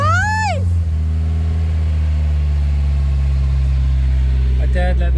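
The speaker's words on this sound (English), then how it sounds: "the rev counter's not working, but the engine is running" A Volvo 240 engine runs after starting, with a steady, loud, low idling hum throughout. A rising and falling voice-like sound at the start and brief voices at the end sit over the engine.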